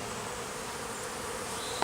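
Honey bees swarm busily around a hive entrance, their dense, continuous buzzing close and steady without pause.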